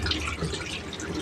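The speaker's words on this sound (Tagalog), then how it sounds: "Hugasan natin muna ang patatas." Potatoes being washed under running water, a continuous close splashing and trickling that stays steady and fairly loud for a brief moment.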